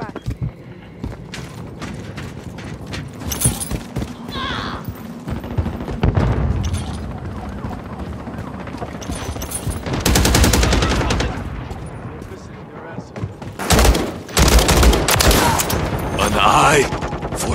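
Heavy gunfire in Call of Duty Modern Warfare 3 multiplayer, with loud bursts of automatic weapons and booms throughout, densest in salvos near the middle and end, while voices talk over the combat.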